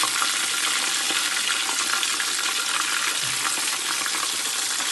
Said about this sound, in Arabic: صافي نحركو الدجاجه ديالنا